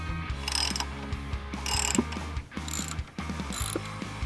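Ratchet wrench snugging sway bar bolts under a car, a steady run of fast mechanical clicks with brief pauses, close and moderately loud, no talking.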